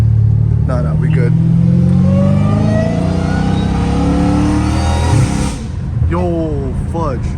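A straight-piped Dodge Hellcat Redeye roars under hard acceleration, heard close from the cabin, its pitch climbing steadily before a shift with a short dip, then revving again while someone talks.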